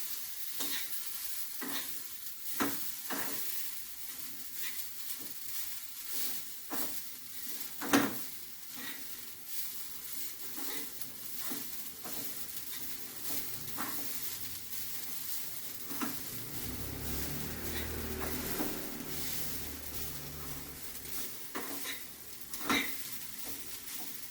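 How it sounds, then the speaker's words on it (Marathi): Coconut dry-roasts in a hot kadai for a traditional Saraswat amti, heard as faint scraping stirs and soft clinks at an unhurried, irregular pace, quiet and near. "ह्याच्यावर गरम कढईत आणि थोडंसं परतून घेणार"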